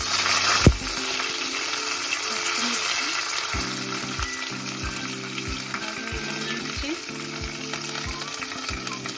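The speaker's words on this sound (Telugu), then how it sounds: "ఇప్పుడు ఆయిల్ వేడైందండి. ఇందులో కొద్దిగా ఆవాలు, కొద్దిగా మినపప్పు, శనగపప్పు, కరివేపాకు," Mustard seeds, urad dal, chana dal and curry leaves sizzle in hot oil for lemon rice: a loud, steady frying hiss with scattered crackles and pops, and a sharp spatter burst near the start.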